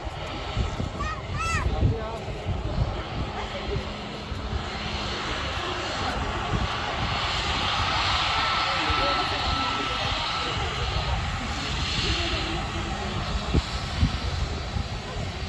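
A Boeing 737 MAX 8 jet airliner at Manchester Airport, a steady broad engine roar that holds throughout at moderate distance, mixed with wind noise and occasional talk nearby.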